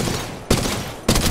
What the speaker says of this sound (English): Reloading. Opening fire.